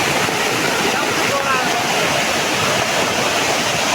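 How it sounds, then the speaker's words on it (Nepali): A small stream swollen after rain rushes past in a loud, steady torrent of broadband water noise that holds unbroken and close for the whole stretch. "यत्रो ठुलो बलाएको छ यो खोल्सामा।"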